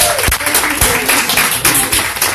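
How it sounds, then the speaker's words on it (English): A round of applause for a motivational speaker coming up, dense clapping mixed with a few sharp taps and some voices underneath, fairly loud and close throughout. "we'll give him a round of applause"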